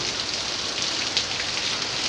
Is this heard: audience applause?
no